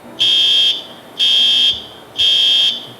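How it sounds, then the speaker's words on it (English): A loud, piercing electronic factory evacuation fire alarm sounds in three evenly spaced half-second beeps, harsh and shrill, with nothing else heard between them. "Our evacuation alarm or fire alarm sounds like this."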